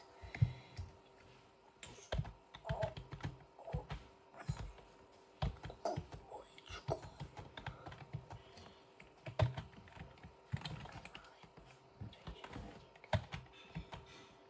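Rapid clicks and clacks of fingers on a computer keyboard during a Roblox restaurant tycoon game, in quick irregular bursts with short pauses, close and crisp with no talk over them.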